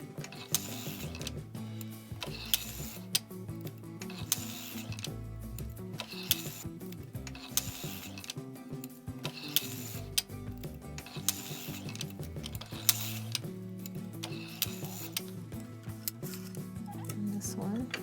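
An LT150 knitting machine carriage makes a single pass, with a steady mechanical clatter of small clicks and ratcheting ticks running evenly for about eighteen seconds, close up and moderately loud.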